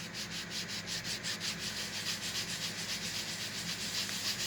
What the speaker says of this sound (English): Just light scrubbing.